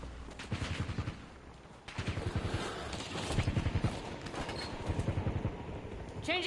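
Bursts of rapid gunfire in a Call of Duty Resurgence match, repeated volleys at a steady rhythm, fairly loud and near with some scattered distant shots between them.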